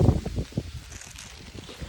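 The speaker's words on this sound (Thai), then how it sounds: "ลมแรงมากเลย" Strong wind gusting across a vegetable garden where Thai round eggplants are being picked, a low rumbling buffet against the microphone that swells loudest at the start and keeps blowing steadily throughout.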